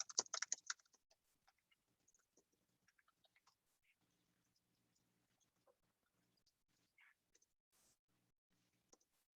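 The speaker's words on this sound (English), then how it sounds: "So I'm just going to go ahead and start typing here," Typing on a computer keyboard at a desk, a fast burst of key clicks at the start, then sparse scattered taps and clicks, close and quiet with no talking.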